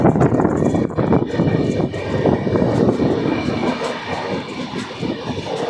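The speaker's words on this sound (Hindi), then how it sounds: "अब बीच से हमारी ट्रेन निकल रही है" The Danapur Koderma Intercity Express runs through a cutting between hills in Bihar, giving a loud, steady, continuous roar and rattle of wheels and carriages close by, with no speech.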